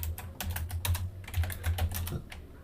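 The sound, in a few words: typing on a computer keyboard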